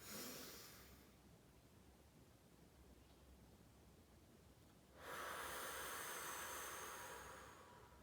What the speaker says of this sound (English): And that's box breathing.